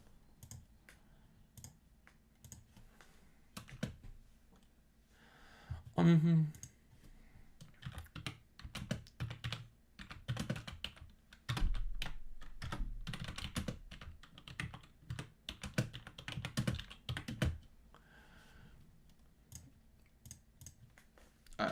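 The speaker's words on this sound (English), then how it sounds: "typing with a keyboard sideways is the worst thing ever" A computer keyboard held sideways is typed on in bursts of close, dry clicking keystrokes, some clustered and rapid, others sparse, with no talk over them.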